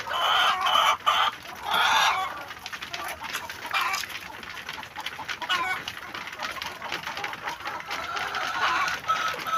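Chickens on a small egg farm cluck continuously and close by, with several birds overlapping in a busy, uneven chatter that swells in louder bursts early on.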